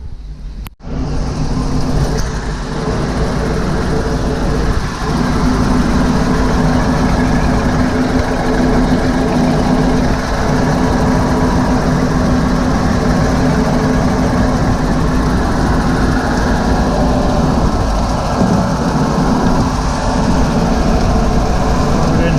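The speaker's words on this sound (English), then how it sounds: "that port engine's warming up, 116 degrees. Starboard just started at 41" Twin engines of a Meridian 341 boat idle steadily while warming up, a loud continuous low rumble with a faint steady hum, heard from close by in the engine area with no talking.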